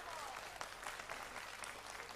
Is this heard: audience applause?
yes